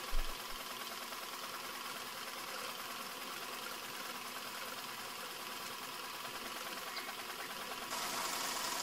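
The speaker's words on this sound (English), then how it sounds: "The engine is quiet and will not disturb you or the neighbors." A boiler-driven engine on a disaster relief system runs steadily at close range, a dense, even mechanical drone with fine rapid knocking held throughout, brightening slightly near the end.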